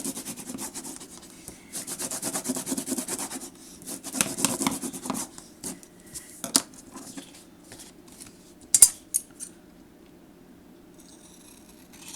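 A plastic bone folder rubs over the back of cardstock during journaling craft work, making rapid, close, rhythmic scratchy strokes that thin into scattered light rubs and a few sharp taps.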